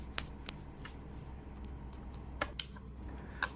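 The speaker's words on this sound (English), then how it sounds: "So you type ls," Someone types a command into a terminal on a Huawei HarmonyOS PC keyboard, giving a few sparse, quiet key clicks over a low steady background hum.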